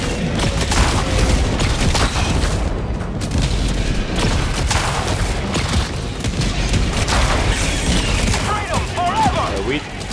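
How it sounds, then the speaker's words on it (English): A dense, loud orbital artillery barrage in Helldivers 2 fighting bugs, with continuous booming impacts and gunfire layered together throughout. Nearby battle noise never lets up. "watch out for the barrage"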